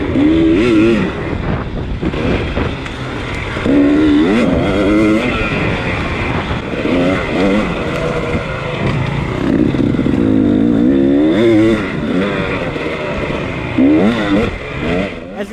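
An enduro motorcycle ridden hard through a race test at the Corduroy Enduro, its engine loud and close throughout, revving up and down continuously with clattering over rough ground.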